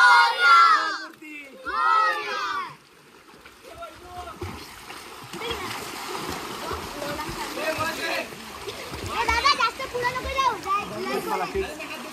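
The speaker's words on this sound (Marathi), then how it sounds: "बघूया पाण्यामध्ये जरा डुबकी मारतोय" Water splashing as a man takes a dip in a chilly lake during the Ganesh festival, with talk and cheering near the start, then rippling splashes alongside distant voices and children.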